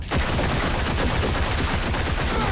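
Sustained automatic gunfire fills a Cyberpunk 2077 firefight: a dense, loud, unbroken volley of rapid shots that runs for the whole stretch with no talk.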